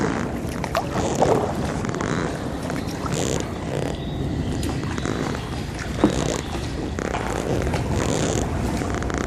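Someone paddles a kayak through flooded water in Nokomis, with irregular splashes and paddle strokes close to the microphone. A constant wash of water and wind noise runs underneath.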